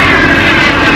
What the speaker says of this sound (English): There's the jet.